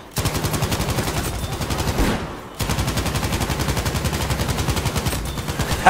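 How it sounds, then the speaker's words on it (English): A wall-mounted MG34 machine gun fires in a video game, long sustained automatic bursts with a fast regular rhythm, loud and close, broken by one brief pause before the firing resumes. "Mounted light machine gun."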